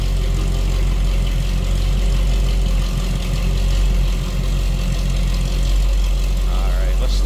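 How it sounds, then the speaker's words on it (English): The 350 V8 in a 1984 Chevrolet K10 pickup runs at a steady idle, a loud, close, continuous rumble that fills the whole stretch with no break. "Nothing crazy over the top, just nice sounding 350."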